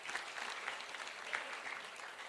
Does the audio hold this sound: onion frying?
no